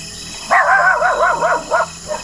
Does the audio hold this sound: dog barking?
yes